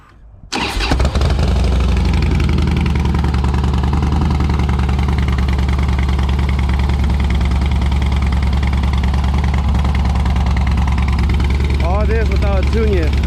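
Harley-Davidson Softail with Stage 1 exhaust and no tune cranks and fires after a brief silence, then settles into a loud, deep, lumpy idle that stays close and steady to the end.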